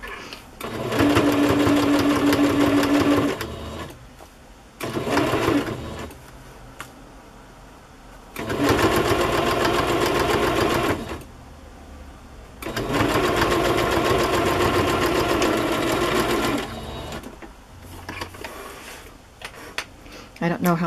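A sewing machine whirs in several sustained bursts of stitching through Kantha quilt pieces, separated by brief pauses with quiet handling sounds and a little speech.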